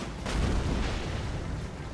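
A video game explosion comes through as a loud, deep boom that swells quickly and rumbles on in a dense roar, with no voices over it.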